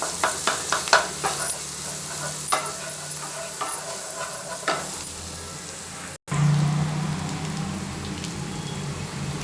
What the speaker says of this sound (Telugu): అల్లం ఎల్లిగడ్డ వేసుకొని వేయించుకోవాలి